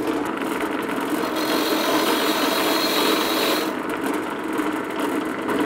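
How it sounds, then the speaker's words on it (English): A power tool polishes a metal boat propeller with a steady, continuous rasping grind that stays loud throughout, the texture easing slightly toward the end with no speech. "Yeah, it's polishing the metal, but it's not taking metal off, I don't think."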